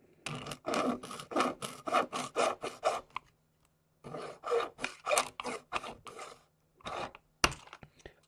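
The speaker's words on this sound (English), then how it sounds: "I'm going to use the super scientific method of cutting that end off" Rhythmic back-and-forth sawing as the end of a model railway part is cut off with a small hand saw, close and fairly quiet, in two bursts of strokes separated by a short pause.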